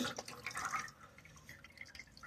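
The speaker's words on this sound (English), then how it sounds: "I want to squeeze out as much milk, folks, as I can from this box here." Coconut milk dripping and trickling as blended coconut is squeezed by hand, a soft wet spatter that is busiest at first and then thins to sparse drops, close and quiet.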